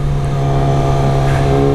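A 2019 Yamaha R6 sport motorcycle engine drones loud and close as the rider overtakes, a steady buzzing tone with wind noise and no talking.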